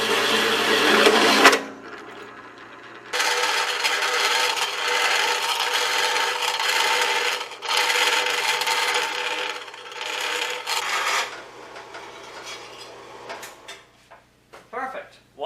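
A small custom metal washer is filed and rubbed down by hand for a 1976 Mazda RX front suspension job. Bursts of steady rasping scrape stop and start across the clip, loud and close, with short pauses between strokes.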